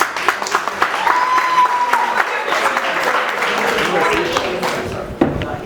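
Guests at a civil wedding ceremony applaud in a broad, lively burst that swells and holds for several seconds, with a few voices and whoops rising over the clapping.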